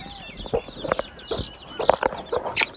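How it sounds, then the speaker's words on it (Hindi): Aseel hen and week-old chick clucks and small chirps come in short, irregular bursts at close range, with several birds calling over one another and no one talking. "आप सबसे पहले इन चिक्स को देखें"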